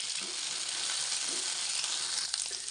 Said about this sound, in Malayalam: നമുക്കത് എണ്ണയിലൊന്ന് വറുത്ത് കോരിയെടുക്കാം